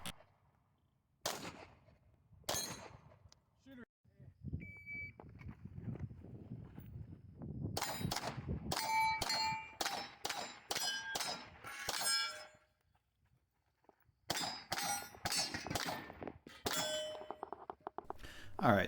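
Steel Texas Star plate targets at a multigun match ring out as bullets strike them, with sharp metallic clangs in quick clusters between stretches of gunfire and noise, at moderate distance.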